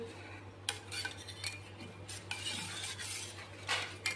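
A spoon stirs thickened homemade ice cream mixture with cardamom powder in a metal vessel, giving scraping strokes and light clinks at a steady pace, close by and fairly quiet.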